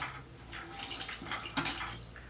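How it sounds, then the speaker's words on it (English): Water drips and trickles off rinsed wine bottles on a bottle drainer in a series of soft, close, irregular splashes over a quiet background. "that means that the water is then dripping down"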